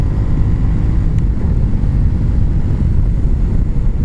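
A Royal Enfield Interceptor 650 twin's engine drones steadily while riding, loud and close, with a low rumble and wind mixed in and no talking.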